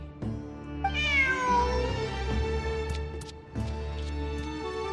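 A cat in Genshin Impact meows in a long, drawn-out call, followed by a couple of softer, shorter mews over a steady low hum.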